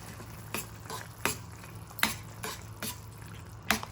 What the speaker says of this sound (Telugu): ఇప్పుడు దీన్ని ఉండలు కట్టకుండా బాగా తిప్పాలండి